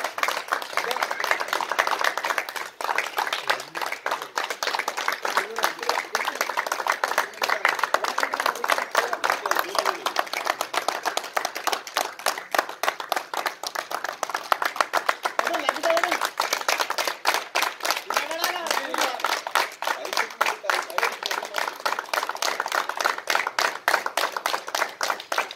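Residents on lockdown clapping from their homes to thank police and medical staff during a curfew, rapid dense clapping from many people that runs steadily throughout at moderate distance, faint voices mixed in.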